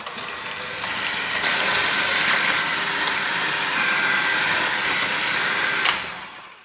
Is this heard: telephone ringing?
no